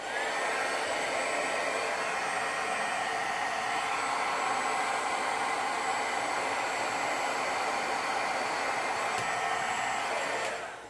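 A dryer blows steadily to dry gold ink on a card, a loud, even whooshing hum that runs unbroken for about ten seconds before cutting off near the end, with no talking.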